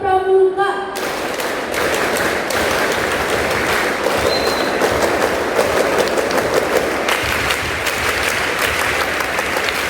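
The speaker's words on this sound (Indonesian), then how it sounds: "3 kali tepuk pramuka" A crowd at an Indonesian Pramuka scout ceremony claps loudly and steadily in unison, a dense rush of hand claps filling the whole stretch after a brief sung or spoken tone at the start.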